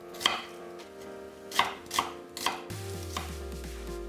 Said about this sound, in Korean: 양파 1개는 1cm 두께로 채 썰어주고